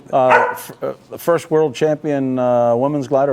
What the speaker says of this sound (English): if you hear in the background, you might hear a little barking